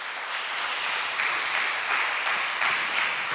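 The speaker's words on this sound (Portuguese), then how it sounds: "Então aplauda e glorifica o Senhor." A church congregation breaks into applause, a loud, steady wash of many hands clapping together with no voices rising above it.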